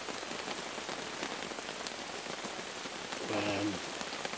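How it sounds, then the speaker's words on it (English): Heavy rain pours steadily onto a camping tarp pitched in the woods at night, a dense, even patter filling the whole stretch, with a brief low muffled sound near the end. "there's nothing nicer on a wild camp than the sound of the rain on the tarp"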